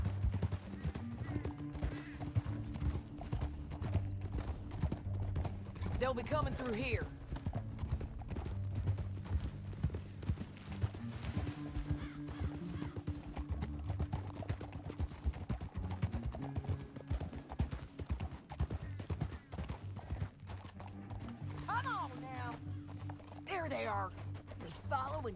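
Horse hooves clip-clop in a steady walking rhythm while riding through a canyon in Red Dead Redemption 2, continuous under frequent talk and game sounds, with a brief whinny.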